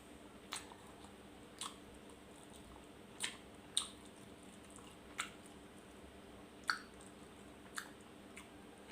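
Fried Thai pork sausage (moo yor) being chewed, soft moist squishy bites recurring at irregular intervals, close to the mic and fairly quiet, with no talking.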